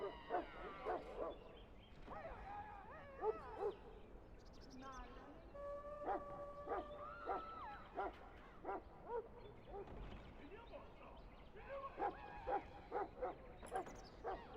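Mabari war hound from Dragon Age Origins barking and yipping in short bursts inside a castle, mixed with whimpers, under game music and talking voices.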